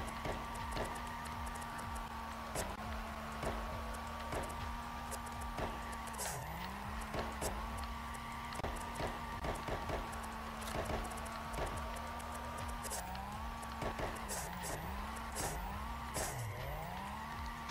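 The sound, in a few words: car tires skidding while drifting in the CarX Drift video game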